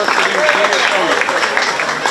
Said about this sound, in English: Let's give both Cale and Blakely a nice big round of applause for their champion and Reserve Champion